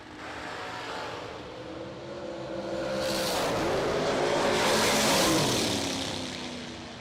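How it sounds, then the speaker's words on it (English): A drag race car's engine is revved hard at the line, its droning roar swelling then sweeping up in pitch as the throttle is whacked, loud and close before easing off. "John O. down there whacking the throttle"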